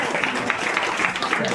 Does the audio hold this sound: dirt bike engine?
no